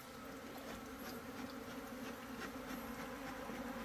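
Swarm of plump honeybees from a hive newly trapped in the forest buzzing steadily and densely, a continuous close hum with no voices.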